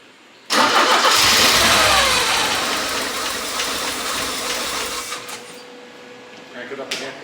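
A Porsche 944 engine cranks and then fires, a loud close burst that settles into a rough run before fading, with a brief noise near the end.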